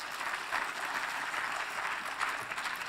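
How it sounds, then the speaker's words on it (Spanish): An audience at a joint-pain medical symposium applauds a doctor as he is introduced, a dense and steady wash of clapping heard from a distance that carries on through the whole stretch without pause. "Un aplauso para el doctor Ramírez Jaua"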